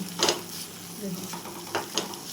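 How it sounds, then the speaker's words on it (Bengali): Paneer being stirred into masala in a pan for paneer maharani, with soft scraping and stirring strokes over a low sizzle, a few brief louder scrapes standing out, no talk. "খুব ভালোভাবে এটা আমি কষিয়ে নিচ্ছি নাড়িয়ে চাড়িয়ে আমি খুব মিক্স করে নিচ্ছি"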